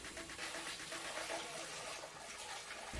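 Wort for a cranberry orange ale being poured into a fermenter, a steady close gush and splash of liquid running for a few seconds, fairly quiet.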